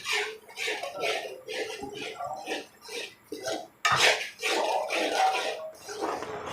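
A spoon stirs semolina halwa with green cardamom in a pan, rhythmic scraping strokes repeated in quick bursts, close and fairly loud, with a brief pause midway.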